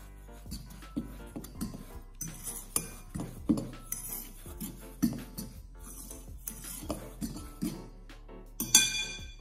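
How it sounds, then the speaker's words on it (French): Clinking of a utensil against a bowl as crêpe batter ingredients are mixed with a pinch of salt and a pinch of baking soda, a series of light, irregular taps close by with no talk. "La pincée de sel et la pincée de bicarbonate. Hop. Voilà, vous mélangez le tout."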